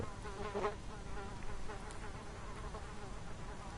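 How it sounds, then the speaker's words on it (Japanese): Flies buzz continuously in a creepy house scene in the video game What Remains of Edith Finch, a close, steady insect drone with brief louder swells, no voices. "めっちゃハエの音するけど。"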